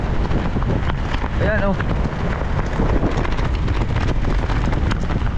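Strong wind at the seaside roars steadily across the microphone in a loud, continuous rush, with a brief voice breaking through partway.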